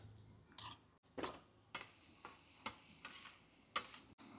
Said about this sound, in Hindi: कांदा व्यवस्थित फ्राय करून घेऊ आपण